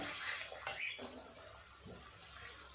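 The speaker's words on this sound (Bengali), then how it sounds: "দিয়ে দেব পরিমাণ মতো জল" Water is poured into a pot of fried masala for a fish kalia curry, a faint gurgling splash with soft clinks, quiet and brief.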